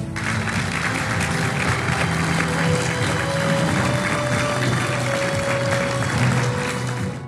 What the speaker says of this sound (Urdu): امریکہ، قطر، ترکی اور مصر کے صدور نے دستخط کیے تو ہال تالیوں سے گونج اٹھا